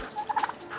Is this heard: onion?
no